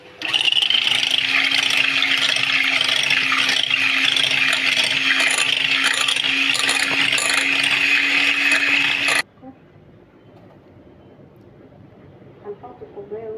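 Electric egg beater whisking eggs and vanilla for a Turkish milk cake batter, a loud steady whirring buzz for about nine seconds that cuts off abruptly, followed by quiet room sound.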